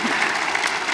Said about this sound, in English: If you would give them a round of applause one more time.